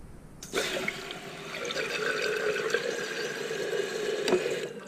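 Toilet fill valve running water without shutting off, a steady hissing rush that starts abruptly and continues at constant level, fairly faint and close.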